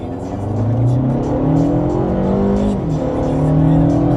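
A Mercedes car accelerating hard, its engine note climbing loudly through the revs, dipping briefly at a gear change and rising again, heard close from inside the car.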